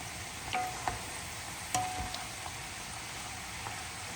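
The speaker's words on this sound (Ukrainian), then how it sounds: "як тільки закипить, побачите, що воно вже кипить" A pot of eggplant and pepper mixture bubbles quietly at a steady simmer, a soft hissing churn broken by a few small pops and clicks.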